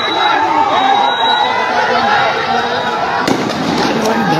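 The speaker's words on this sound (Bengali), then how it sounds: "আবার ফায়ার হয়েছে, আবার ফায়ার হয়েছে" Gunfire rings out during street clashes between army and marchers, heard amid a constant roar of crowd noise and chatter, with a sharp burst of shots near the end.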